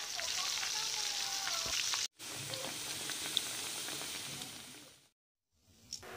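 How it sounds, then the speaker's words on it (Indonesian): Cassava pieces fry in oil over medium heat, giving a steady close sizzle and crackle with faint pops. Two brief cuts break it into near silence, and no one speaks. "lalu goreng sampai dia benar-benar merekah, pakai api medium aja ya"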